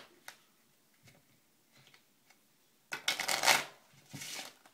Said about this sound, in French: un paquet de cartes tout à fait normal que je peux mélanger